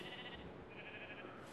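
A Minecraft sheep bleats faintly in the game, one short wavering cry heard alone with no talk.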